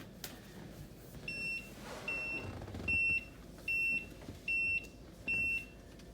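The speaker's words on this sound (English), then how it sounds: "It's Nope. blinking red and beeping." A faulty robot vacuum beeps in a regular series of five or six short, shrill tones, close and fairly quiet, with faint room noise and handling sounds before the beeps begin.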